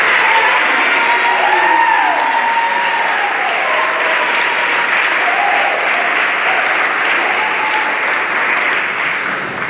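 An audience at a Class of 2019 awards ceremony applauds loudly and steadily for nearly ten seconds, a dense wash of many hands with some faint cheering and voices mixed in.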